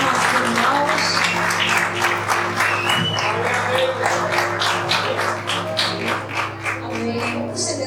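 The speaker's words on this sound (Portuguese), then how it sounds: "Gostaria que a igreja pudesse dar uma salva de palmas agradecendo ao Senhor pela vida dos nossos irmãos." A church congregation gives sustained applause, dense overlapping claps filling the room at a steady strong level for the whole stretch, with an organ or keyboard chord held underneath.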